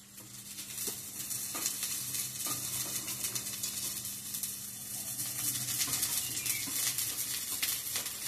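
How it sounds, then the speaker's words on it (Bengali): Cabbage frying in a pan with potatoes and onions, a moderate sizzle with scattered stirring clinks and scrapes, steady and close, no voices. "এখন আমরা এটাই দিয়ে দিব বাঁধাকপি।"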